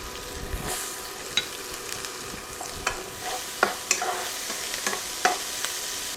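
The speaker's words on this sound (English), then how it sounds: "start adding my bell pepper to the butter. It's starting to sizzle now." Diced bell pepper sizzles steadily in butter in a hot pan while a utensil scrapes and stirs, giving scattered clicks and taps over the constant frying hiss.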